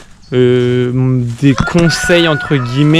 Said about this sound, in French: il y a le coq là